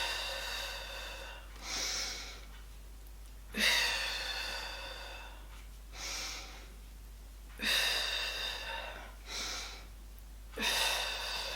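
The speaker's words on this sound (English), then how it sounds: "inhale for 5. Exhale for 5" Deep, controlled Pilates breathing with the belly pulled in, several loud, breathy inhales and exhales in a steady rhythm, close to the microphone over a low constant hum.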